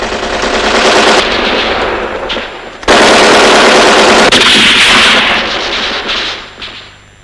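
Sustained machine gun fire in a 1981 Albanian war film, rapid loud bursts continuing for several seconds with a brief pause near the middle, then trailing off, with no talk over it.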